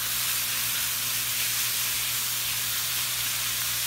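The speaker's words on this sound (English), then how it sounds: "Here's 1 pound of bacon going in. Hot stove. No oil needed." A pound of bacon sizzling in a hot pan on the stove with no oil, a loud, dense, continuous hiss that holds steady throughout.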